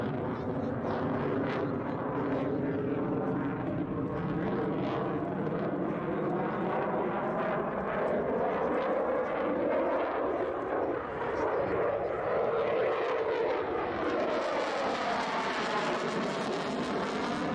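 A Dassault Rafale fighter jet in flight makes a continuous, loud roaring engine drone that shifts in pitch as it passes, with a narrator's voice running over it.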